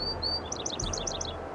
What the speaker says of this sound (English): Bachman's sparrow